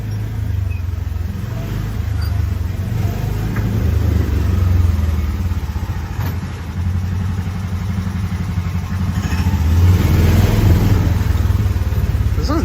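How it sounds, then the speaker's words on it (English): Car exhaust from a vehicle cruising through a park on a hot summer day, a steady low engine drone running continuously and fairly loud, swelling slightly near the end, with no talk over it. "You can hear the exhaust with the little"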